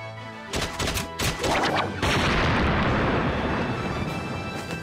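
Cartoon soldiers open fire in a burst of gunfire, with sharp shots at first that build into a loud, sustained barrage of blasts and rumbling.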